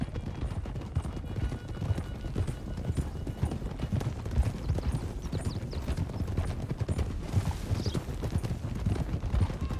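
Steady, fast clip-clop of horse hooves galloping without pause, dense and continuous throughout, in the video game Red Dead Redemption 2.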